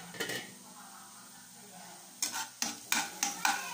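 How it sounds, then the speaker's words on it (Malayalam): Cooked ash gourd being stirred in a pan for Onam pachadi, a few scraping clatters of a spoon against the pan near the end, with a soft simmer sizzle underneath. "ഇളക്കി നോക്കാം"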